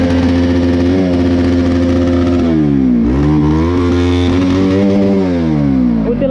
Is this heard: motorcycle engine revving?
yes